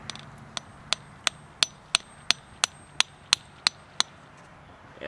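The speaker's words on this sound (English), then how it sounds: "take a hammer, and just lightly tap." A hammer lightly taps a spile into a drilled hole in a maple tree, about a dozen sharp, evenly spaced knocks in a steady rhythm, close and clear against a quiet outdoor background.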